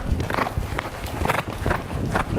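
A ridden horse's hooves clip-clop in an even, rhythmic beat, close and fairly loud, with a steady background hum between the strikes.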